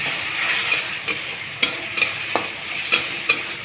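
Cabbage, potato and tomato curry is stirred in a pan, with a steady frying sizzle and repeated sharp scrapes and taps of a spoon on the pan at an uneven rhythm, close up and without talk.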